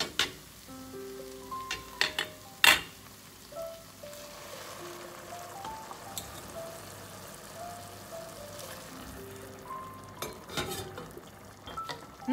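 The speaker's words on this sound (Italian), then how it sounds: "possiamo andare ad aggiungere il brodo vegetale poco per volta. Ne aggiungo 2 mestoli." Vegetable broth ladled into mushroom risotto cooking in a pan, a soft sizzle and bubbling underneath scattered spoon and pan clinks, fairly quiet and close with no talking.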